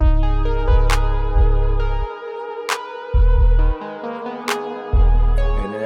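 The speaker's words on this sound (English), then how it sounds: "claps, and it sounds like this" A beat with punchy electronic claps landing at a steady interval, layered over deep bass hits and sustained synth tones.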